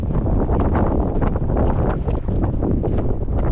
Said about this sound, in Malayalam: നല്ല കാറ്റ് ഭയങ്കര കാറ്റ്